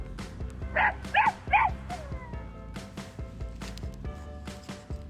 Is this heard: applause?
no